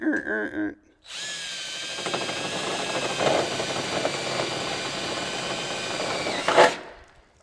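A power drill whines steadily for several seconds, biting through the metal side of a Jeep with a rising grind near the end, after a short stretch of talk.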